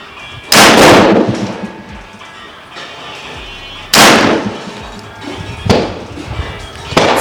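A 50 cal T50 PCP airgun fires slugs: four loud, sharp reports at irregular intervals, each with a ringing decay, separated by quiet pauses.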